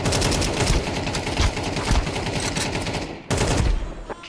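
Rapid automatic gunfire from a full magazine being sprayed in Counter-Strike 2, a dense, loud, continuous burst of shots that breaks off briefly near the end and then resumes.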